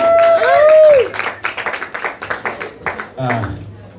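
Audience applause for a band at an open mic night, scattered clapping that rises after a sustained tone and continues in uneven bursts under a voice.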